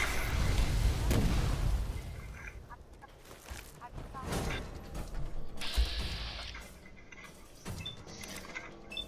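Fallout 4 combat in a Nuka-World employee area: sharp gunshot bursts and impacts crack out irregularly, loud at first then scattered, mixed with mechanical clatter and game effects.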